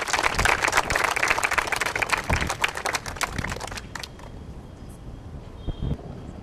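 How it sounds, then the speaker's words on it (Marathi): Audience applause at a Satara civil hospital event, dense clapping that fades after a few seconds into scattered claps and background noise. "त्यांच्यासाठी एक जोरदार क्लॅप होऊ द्यात"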